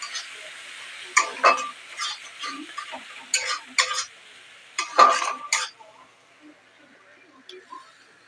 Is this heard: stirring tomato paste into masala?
yes